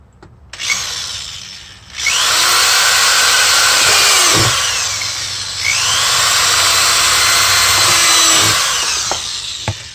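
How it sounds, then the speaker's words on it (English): A power drill whines loudly in two long bursts, its pitch rising and falling as it bites into a plastic rat bait station, with brief pauses between. "I'm going to drill holes in here."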